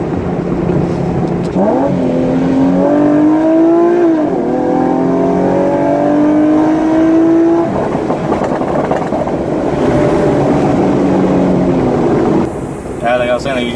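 Nissan 370Z with an HKS full catback exhaust and high-flow cats, engine revs climbing through gears with rising harmonic whine, a drop and rev-matched downshift blip, loud and close from inside the car, a voice talking briefly near the end.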